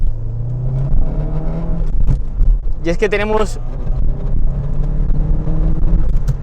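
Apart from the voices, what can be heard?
Saab turbo car engine revving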